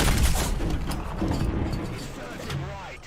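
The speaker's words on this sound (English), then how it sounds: "Pretty hilarious hit explosion there, though." A tank shell hitting and exploding in War Thunder, a heavy low boom at the start that fades into a rumbling tail with mechanical clatter, under talk.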